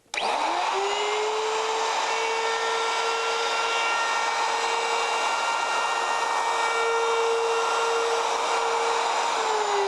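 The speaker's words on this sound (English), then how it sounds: "With the dovetail bit installed, I can now come in and make the cut" A router fitted with a dovetail bit spins up sharply and then holds a loud, steady high whine while it cuts the tenon angle on a guitar neck in a jig, close and continuous.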